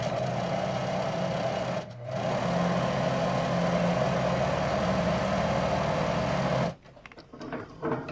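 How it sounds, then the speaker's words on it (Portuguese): A home sewing machine stitches fabric with a continuous buzzing whir and rapid needle rhythm, pausing briefly once and then stopping near the end, leaving quiet handling sounds; close and steady, with no one speaking. "Coloquei aqui, metade em cima, metade fora e vou costurando."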